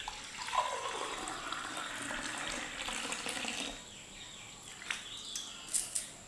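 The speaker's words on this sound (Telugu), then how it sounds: "ఇప్పుడు మనం ఇంట్లో నీళ్ళు పోసుకుందాం." Water being poured at home while making lemon juice, a steady splashing pour for about four seconds that fades, followed by a few light clinks and taps.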